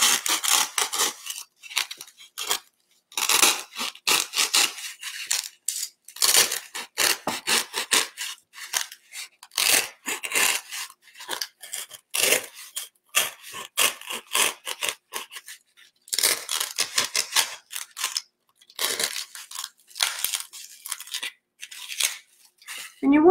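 Repeated scraping, rasping strokes of a blade cutting a hole into craft foam, close and fairly loud in irregular bursts with brief pauses between them.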